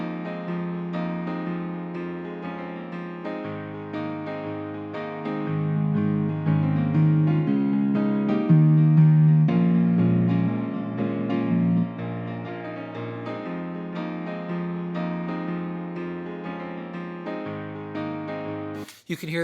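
A mixed piano part plays chords with a boomy low-mid ring left uncut, sustained notes swelling and fading over nearly twenty seconds, moderately loud with no talking.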